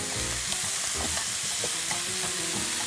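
Meat stir-frying in oil in a pan, a loud, steady sizzle with frequent scraping stirs up close and no talking over it.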